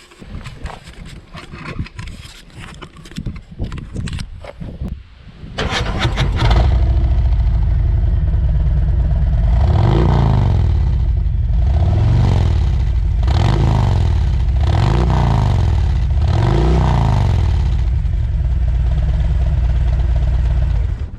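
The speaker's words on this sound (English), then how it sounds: "So let me start with the bike, show you what it's like" A Harley-Davidson Road King Special motorcycle cranks with a rapid clatter, fires up into a loud, close idle, then revs repeatedly in rising and falling swells, about five blips in a row.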